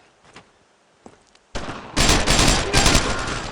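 Dense, loud bursts of rapid rifle and machine-gun fire erupt after a quiet opening with a few faint pops. The battle is the Utah Beach landing in the video game Brothers In Arms: Road to Hill 30, and the firing overlaps in continuous volleys.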